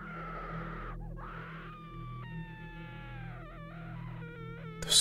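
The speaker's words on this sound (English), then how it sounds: "Then came the screams." Horrifying screams as a horror audio drama effect: drawn-out wailing, moaning cries that slide and waver in pitch over a low droning bed, ending in a sharp burst.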